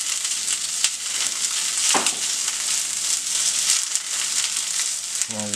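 Onions fry in a pan for a brunch burger, a loud, dense sizzle with occasional scraping sweeps and a brief clatter at the end, no voices over it.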